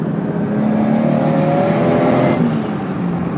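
Nissan S14 with an RB30 engine and Holset HY35 turbo on 12 psi of boost, accelerating hard with wheelspin in second gear: a steady loud engine roar with rising tone, close and without talk.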